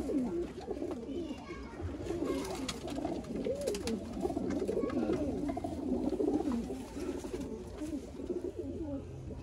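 Several show pigeons coo continuously in overlapping rolling calls, a steady dense flock sound close at hand with no talk.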